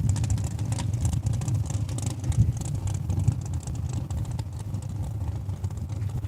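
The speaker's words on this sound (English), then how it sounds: "Big burnout, laying down some hot rubber" A 2004 Ford Mustang does a burnout at a drag strip, its engine roaring steadily with rough low rumble and tyre hiss, loud and continuous with slight surges in revs.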